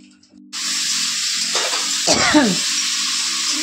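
Food hits a hot pan and a loud, steady frying sizzle starts abruptly and carries on throughout, with a brief stirring scrape and a voice in the middle.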